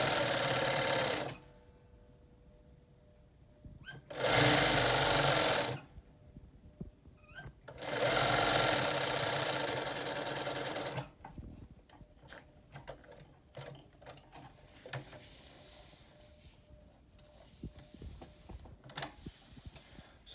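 Sewing machine stitching a French fell seam with ribbon on fabric, loud close bursts of rapid whirring at the start, then lighter clicks and handling noises of fabric being adjusted.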